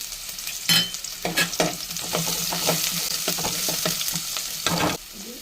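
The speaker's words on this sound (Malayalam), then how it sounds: "എണ്ണ ചൂടായി കടുകിട കടുക് പൊട്ടി" Sharp, rapid pops and crackles as mustard seeds splutter in sizzling hot oil, irregular and close, with a few louder spits standing out against the steady frying hiss.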